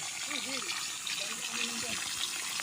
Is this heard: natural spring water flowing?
yes